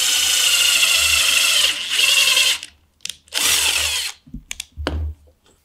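A power drill bores a row of three holes into wood for a stool mortise, pressed through a guide, in loud whirring bursts separated by short pauses and a few clicks.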